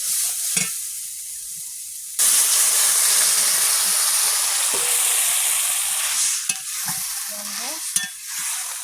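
Water hits a hot pan of fried potatoes with a sudden loud sizzle that keeps hissing steadily, with stirring clinks, then slowly eases off.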